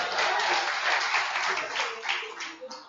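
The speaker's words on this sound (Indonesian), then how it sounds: "Tepuk tangan dulu untuk Bapak Angel Sulapung." A crowd at a business seminar applauds in a short burst of dense clapping that swells and then fades, with talk faintly mixed in.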